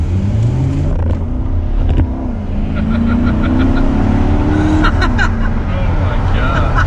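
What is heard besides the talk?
2019 Chevrolet Corvette Stingray accelerating with wheel spin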